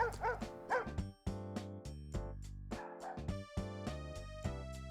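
A Chihuahua in the Japanese PS1 dog game The Dog Master gives a few short yips and barks, layered over steady, tonal game background music with no talking.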